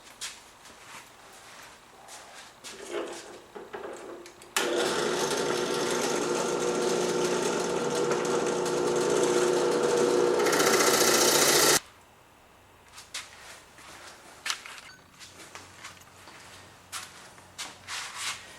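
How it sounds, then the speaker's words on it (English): A drill press runs loud and steady for about seven seconds, its motor whining as the bit cuts holes in clamped cedar, with quieter shop sounds before and after. "I'm going to clamp this down to my drill press, and I'm going to drill the holes."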